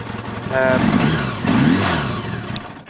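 A 1976 Honda GL1000 Goldwing motorcycle with a sidecar and electronic ignition idles close by, a steady mid-pitched engine hum with slight swells, while someone talks over it.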